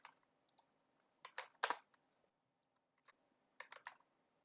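Sparse computer keyboard typing in short clustered bursts of crisp clicks separated by quiet gaps, close and soft in a quiet room.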